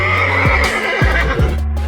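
A horse under attack by a camel whinnies loudly and repeatedly, with strained, descending neighs close by and no talking over them.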